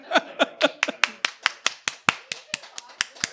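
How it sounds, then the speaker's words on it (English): Audience clapping on a comedy game show stage, a scattered series of crisp, evenly spaced claps that sound like only a few people, close and clear, with no talking over them. "it's a surprising number of people clapping for plantation slavery"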